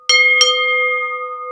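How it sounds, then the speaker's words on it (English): An old gas station service bell struck twice in quick succession, then left ringing with a clear, sustained metallic tone that slowly fades, loud and close with no talking. "Here's one from an old gas station, a service station bell."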